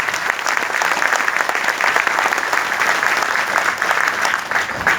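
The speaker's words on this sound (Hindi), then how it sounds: "एक बार जोरदार तालियां" An audience at a health product presentation bursts into loud, sustained clapping that stays steady for several seconds, close and dense, with little talk beneath it.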